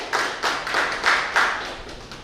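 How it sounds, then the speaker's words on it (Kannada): A small crowd clapping at a Hero Destini 125 scooter launch ceremony in a showroom, steady rhythmic handclaps with loose accents, moderately close and with no talk over them. "ಕೈ ಚಪ್ಪಾಳೆ."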